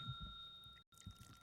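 A bell rings with a faint, steady, sustained metallic tone that drops out for a brief moment and then resumes, over a quiet indoor background.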